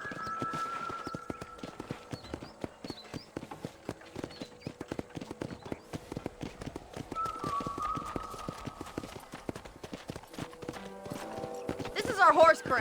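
Horses clip-clop around a horse corral in the video game Red Dead Redemption, a steady run of hoof beats under ongoing conversation, with a brief whinny-like burst near the end.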